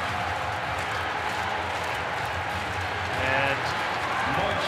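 Men's bandy team cheering on their compatriots at a women's gold-medal game at the Winter Universiade in Krasnoyarsk; a steady crowd roar with scattered shouts and clapping, swelling slightly near the end, with voices mixed in.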